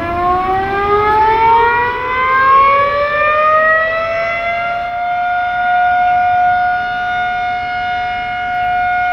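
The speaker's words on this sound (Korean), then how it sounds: "2009년을 목표로 아직도 건설 중인 산샤댐에는 하루에도 몇 번씩 다이너마이트 발파 경고 사이렌이 울린다." A loud dynamite blasting warning siren at the Three Gorges Dam construction site wails steadily, its pitch rising over the first few seconds and then holding a long, sustained tone.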